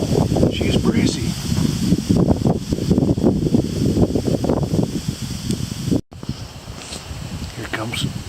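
Breezy outdoor wind at a bow hunting camp, a steady loud rush buffeting the microphone throughout, with a brief dropout near the end.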